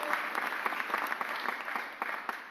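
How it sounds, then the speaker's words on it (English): Audience applause at a mayor's press conference, a dense patter of many hands clapping steadily throughout at moderate level, heard from a short distance with no voices over it. "So please give business community a round of applause here."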